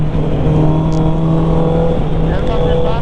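Motorcycle engine droning loudly and steadily during an overtake on the Marilaque highway, with rider audio from a Triumph or Honda CB650R setup and wind roar, and a rising tone near the end as the bike accelerates.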